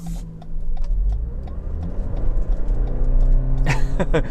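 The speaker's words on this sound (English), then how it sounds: "You can hear the engine kicking in there." A 2023 Lexus NX 350h hybrid SUV's engine kicks in with its CVT, rising from a low hum into a steady, building drone, heard from inside the vehicle, with a few clicks and squeaks near the end.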